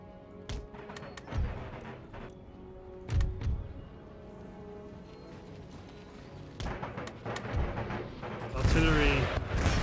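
Cannon and musket fire crack across a battlefield in Empire: Total War, with scattered sharp booms, a heavier cluster near the end and a steady din of battle behind them.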